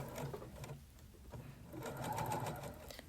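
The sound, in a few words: sewing machine stitching a coat sleeve seam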